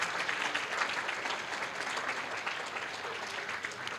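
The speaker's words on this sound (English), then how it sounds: "Please give them a very warm round of applause." Audience at a charity ball give warm, sustained applause, a steady even wash of many hands clapping throughout.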